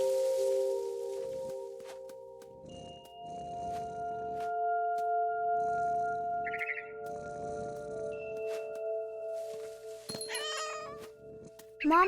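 Cat meows in the video game What Remains of Edith Finch, a few short calls near the end over a steady ambient game music bed with sustained tones, fairly close and clear.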